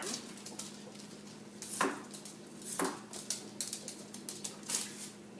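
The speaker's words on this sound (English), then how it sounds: "It's just kind of cutting it into bite-sized pieces." A knife chops a broccoli stem into bite-sized pieces on a cutting board, a run of quick, light, irregular taps and thunks close by with no talking.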